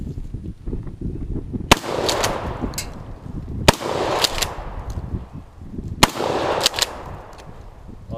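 Three loud, sharp shotgun blasts with birdshot at an outdoor shooting range, spaced about two seconds apart, each trailing off in a brief rumbling echo over steady background noise.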